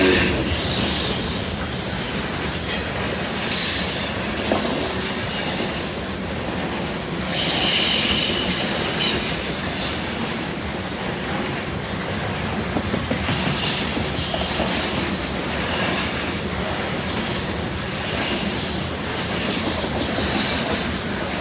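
A BNSF unit grain and double-stack freight train rolls past Carkeek Park, loud and continuous, with wheel squeal, rhythmic clickety-clack and rumbling cars throughout, no talk.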